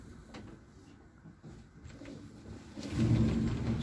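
Pigeons cooing softly inside a racing pigeon loft, low murmuring calls that build toward the end, with faint knocks and rustles in the background.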